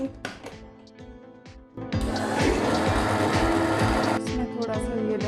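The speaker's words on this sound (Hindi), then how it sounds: "ये मैं दही को डालूँगी मिक्सर में।" Electric kitchen mixer blending yogurt with a little water for kadhi, starting after a few quiet clattery handling sounds and then whirring loudly and steadily for several seconds before easing off.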